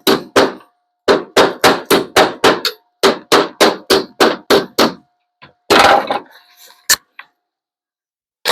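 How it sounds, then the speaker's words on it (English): Hammer blows beating a small metal patch piece into shape on a Triumph TR7 body, in two quick bursts of about six to seven sharp ringing strikes each, then a scraping shuffle and one last knock, close and loud. "Make a little piece and beat the hell out of it, make it fit."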